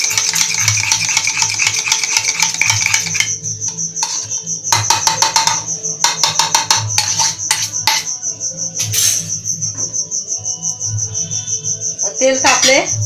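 An egg whisked by hand in a glass gives quick, rhythmic clinking and tapping in bursts, close by, over a steady high chirping of crickets in the background.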